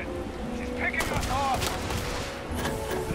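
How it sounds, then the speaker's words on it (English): Gunfire in the space-shooter game Starfield, with a sharp broadband shot near one second and another around two and a half seconds over a steady game ambience, plus brief tonal effects and a voice speaking. "that single headshot was an insta-kill"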